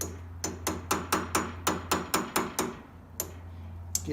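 A hammer taps a trailer wheel bearing race into its seat with a run of about a dozen sharp metallic strikes at a steady, gentle rhythm, then a pause and two more taps, close and clear over a low background hum.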